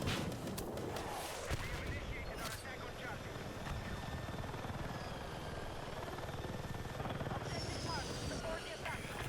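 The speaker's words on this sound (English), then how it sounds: "The attack heli has such powerful anti-vehicle capabilities" An attack helicopter in the Battlefield 6 video game gives a sustained rotor whine and roar, with sharp bursts of gunfire and explosions early on.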